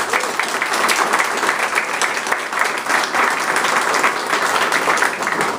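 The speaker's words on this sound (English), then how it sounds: "Let's give them all a round of applause." Loud, dense clapping from an indoor audience at a campaign kickoff event honors the veterans in the room, holding steady for several seconds without pause.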